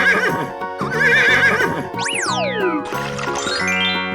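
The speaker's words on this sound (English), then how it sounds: "Horse." A horse in a 3D animal slide video game neighs loudly in a wavering whinny, mixed with cartoonish boing-like sweeping tones and game music, all close and continuous.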